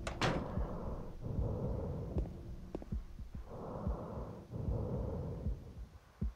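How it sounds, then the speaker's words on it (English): Slow, heavy breathing from the Silent Hill 2 video game, several drawn-out breaths with soft thumps between them, close and fairly quiet, with no talk over it. "I hear somebody breathing right now"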